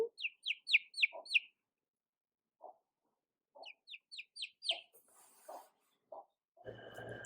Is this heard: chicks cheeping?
yes